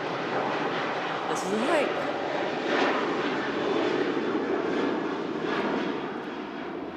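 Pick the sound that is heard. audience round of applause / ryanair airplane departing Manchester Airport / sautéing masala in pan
ryanair airplane departing Manchester Airport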